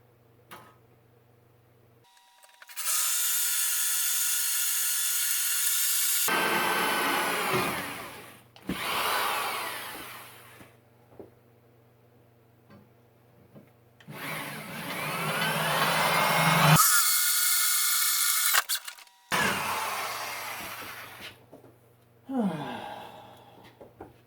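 A power drill boring into an old plow for a Terramite, running in several long bursts of steady high whine, with pauses between, close and loud with no talk.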